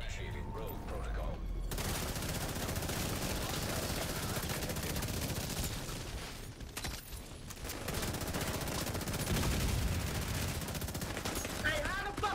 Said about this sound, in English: Hey, how the fuck is he shooting?